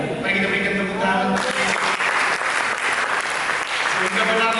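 Applause from a church congregation during a sermon, a dense burst of clapping that swells and carries on for several seconds under a speaking preacher.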